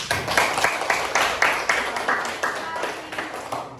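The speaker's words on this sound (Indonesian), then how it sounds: "Kasih tepuk tangan." Hands clapping in a loose, rhythmic pattern at an Indonesian gathering, with sharp repeated claps close by under a steady crowd murmur.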